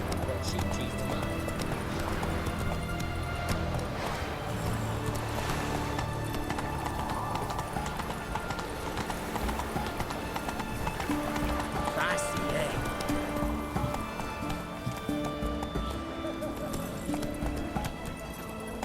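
Geralt's horse Roach trots along in The Witcher 3, with a continuous, rhythmic clip-clop of hooves beneath in-game music and ambience, and a character voice talks over it.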